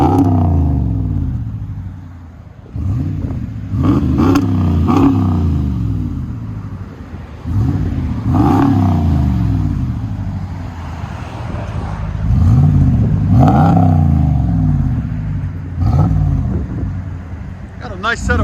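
A 2019 RAM 1500 with a 5.7L HEMI V8 and muffler delete revs repeatedly, each blip a loud deep rising-and-falling exhaust roar over a rumbling idle, close by, with wind noise and occasional voices underneath.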